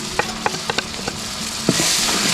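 Whole spices frying in a pot for keema pulao cooked outdoors: a few sharp stirring clinks at the start, then a rising sizzle.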